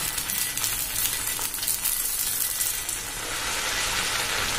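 Prawn masala dosa batter, two ladlefuls poured thick onto a hot oiled pan, sizzling steadily and close by for several seconds, a dense even frying hiss with no talk.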